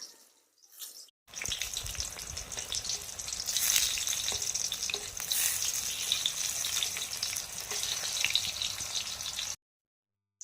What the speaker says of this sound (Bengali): বেগুনগুলো উল্টে পাল্টে ভালোভাবে ভেজে নেব